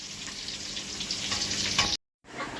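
Pumpkin, okra and eggplant slices fry in hot oil during a home puja meal, giving a steady close sizzle with faint crackles that cuts off briefly near the end and then resumes.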